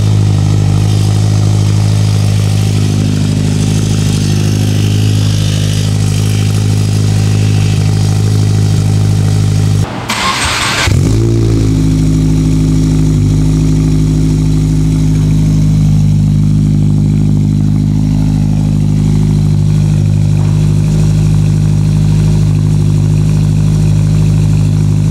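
Inside the cabin of a 2022+ Subaru WRX with a titanium exhaust, the engine drones at a steady, loud idle or cruise, broken by a brief rev blip and then settling back into a constant, deep hum.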